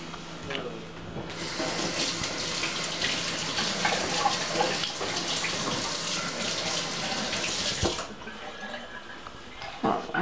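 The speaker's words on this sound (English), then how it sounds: "now I'm gonna go wash my hands again." Tap water runs steadily into a kitchen sink while hands are washed beneath it during cooking, a continuous close hiss lasting several seconds before the flow shuts off and a few soft clatters follow.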